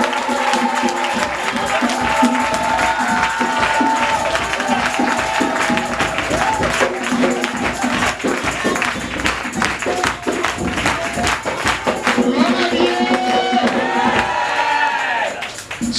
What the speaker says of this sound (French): Je veux que quelqu'un donne une offrande d'acclamation à Jésus.